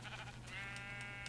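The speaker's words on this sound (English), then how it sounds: "There's another baby sheep." A baby sheep bleats in the video game Minecraft with one short, wavering bleat, faint over a low steady background hum.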